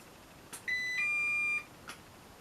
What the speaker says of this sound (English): So it does make beep noises.